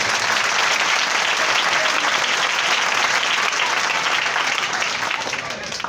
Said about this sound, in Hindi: हम सब के लिए जोरदार ताली बजाएंगे।